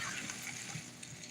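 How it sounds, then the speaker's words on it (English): Pasta water pours out of a pot while spaghetti drains, giving a steady, close splashing and sloshing wash that runs on without a break. "So we'll go ahead and drain that pasta"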